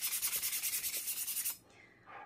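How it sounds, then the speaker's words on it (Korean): Sandpaper scuffs lightly over the outer surface and bottom of a candle warmer being prepared for paint, about a dozen quick, even back-and-forth strokes, loud and close, then it stops, leaving a brief faint scrape. "사포를 하실 때는 힘을 빼시고 전체적으로 한번 스크러치를 낸다는 생각으로 사포를 해주시면 됩니다."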